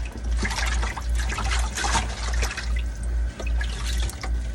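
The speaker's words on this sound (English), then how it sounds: "I really want to agitate my greens in here." Collard greens swished and agitated by hand in a sink filled with salted water, giving continuous close sloshing, splashing and dripping with a steady low rumble of moving water throughout.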